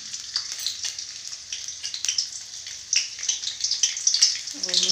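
Garlic sizzles in hot oil in a kadhai wok. A close, continuous crackle rises and falls with fine spattering pops throughout.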